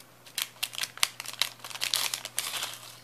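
A parcel from AliExpress holding a silver pendant with pearl is opened by hand, close, crinkly rustling of packaging in quick irregular bursts over a low steady hum.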